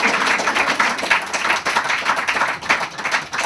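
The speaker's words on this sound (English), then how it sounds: "Give them a round of applause." An audience applauds at an evening workshop certificate event, a dense, steady wash of many hands clapping close by and filling the whole stretch without a break.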